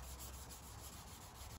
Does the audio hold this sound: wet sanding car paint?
yes